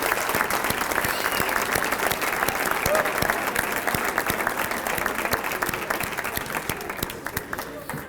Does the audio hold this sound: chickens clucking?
no